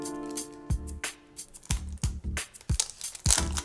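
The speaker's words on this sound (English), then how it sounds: "Let's cut this thing open." A knife slices into a cardboard box for a JAME JM-0806 trimmer: close, sharp tearing and crinkling strokes in short bursts, a handful of scrapes and rips spread over a few seconds with quiet gaps between.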